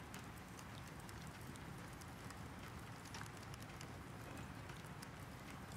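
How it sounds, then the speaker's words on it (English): Rain falling on a roof, a soft, dense and even patter with scattered brighter drops, continuous and faint throughout with no voices. "The rain deepens, falling in waves against the roof."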